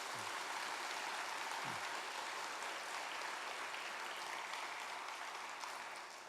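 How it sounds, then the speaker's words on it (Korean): A church congregation applauds during a service, a steady, even wash of clapping that stays level throughout, with a brief low voice sound at the very start. "박수 한번 하겠습니다"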